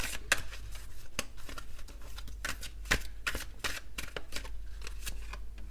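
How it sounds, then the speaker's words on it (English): A deck of tarot cards is shuffled by hand in a quiet room, giving a steady run of close, crisp riffling and slapping card sounds with no talk. "I'll keep shuffling."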